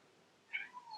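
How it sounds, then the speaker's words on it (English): A house cat gives a single short, faint meow with a slight upward lilt in a quiet room, heard alone without talking. "my cat has decided to join in"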